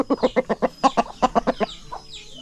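A chicken clucks in a quick series of close, rhythmic clucks, then trails off into quieter calls.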